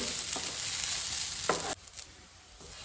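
Onions frying in a pan for a Goan egg drop curry, a steady close sizzle with soft stirring scrapes and a brief louder burst near the middle, no voices.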